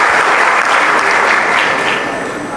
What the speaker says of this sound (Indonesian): Wah, hebat, tepuk tangan.